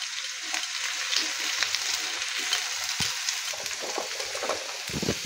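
Cauliflower and mixed vegetables fry in a pan with a steady, close, even sizzle and crackle, with a few soft stirring bumps and no voices.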